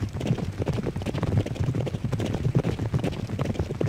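Racehorses gallop in a Derby Owners Club video game race, a dense, rapid pounding of hooves in steady overlapping rhythm, heard fairly close and continuous without talk.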